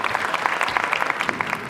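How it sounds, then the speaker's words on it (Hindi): A small audience at a Haryanvi folk performance claps in quick, uneven bursts, close and moderately loud, with no talking over the clapping. "तालियां बजाइए आप"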